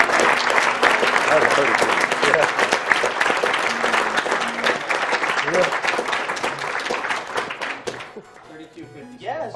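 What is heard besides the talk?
audience applause at a speedrun charity event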